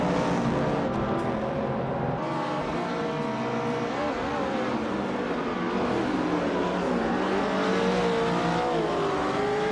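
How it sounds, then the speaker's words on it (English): A 1970 Ford Mustang Boss 429 muscle car roars steadily in a racing video game, its engine revving and shifting pitch continuously with faint tire squeal throughout. "Tron is driving a 1970 Ford Mustang Boss 429, a muscle car known for its power and aggressive styling."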